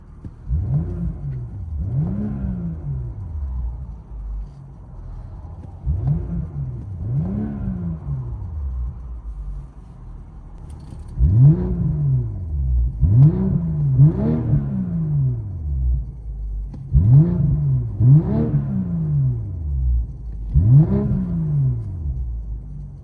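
A 2022 BMW M340i with a 3.0L turbo inline-six and Valvetronic downpipe-back exhaust, valves closed, heard from inside the cabin: repeated muffled revs rise and fall in a steady series, deep and boomy, growing slightly louder in the second half.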